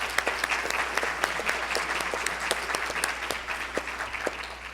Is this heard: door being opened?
no